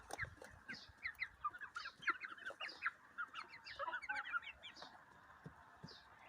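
Young cockerel chicks, two to three months old, cluck and peep in quick, busy bursts nearby, a small group calling over one another without pause.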